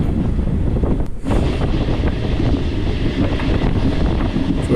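A passenger train on the Machilipatnam to Gudivada line pulls out of Chilakalapudi station, giving a steady loud low rumble and rattle that runs throughout, with wind buffeting the microphone.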